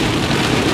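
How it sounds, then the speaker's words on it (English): Heavy rain drums on a car while driving home, a dense, loud, continuous hiss with a low rumble beneath it and no pauses. "It's raining pretty badly out there"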